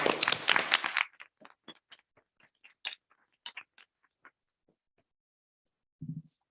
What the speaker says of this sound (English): let's give Estabrook Learning Community a round of applause